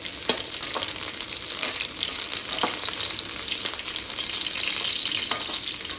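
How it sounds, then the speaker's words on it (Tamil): Capsicum frying in hot oil with golden onions, a dense, even sizzle running throughout with a few light clicks of stirring, close and without talk. "கேப்சிகம் போட்டுக்கலாம் கேப்சிகம் ரொம்ப நேரம் ஃப்ரை பண்ணக்கூடாது"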